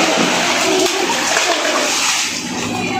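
Water pours steadily into a natural hot spring pool at a private resort in Calamba, a continuous close rushing splash that holds for the whole stretch without any talk.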